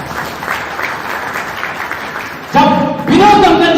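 Applause from the audience at a Palamu district traders' association gathering, a steady wash of clapping that continues under someone speaking loudly, then swells louder toward the end.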